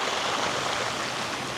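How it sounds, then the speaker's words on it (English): Waves pull back across a rocky, pebble-strewn beach on Vancouver Island, a steady, dense rushing hiss of water and rattling stones, loud and close throughout with no break. "When the big waves come up, then they start to, as they recede, they start to bring all those pebbles and stones back into the ocean with them."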